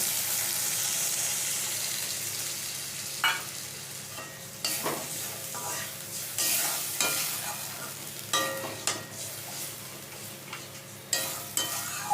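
Water poured into a hot pan of pabda fish curry with eggplant: a loud rushing sizzle at first that settles into steady bubbling, broken by sharp clinks and scrapes of a utensil against the pan.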